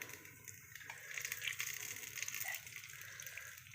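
Gold Winner cooking oil is poured generously into a clay pot for a fish curry, a soft steady liquid gush and trickle lasting a few seconds, fairly close and quiet, with no voices.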